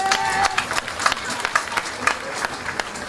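Audience at the opening ceremony of a medical and diagnostic centre in Georgetown, Saint Vincent, gives ministry staff a round of applause: scattered, uneven claps at moderate distance, with some background voices.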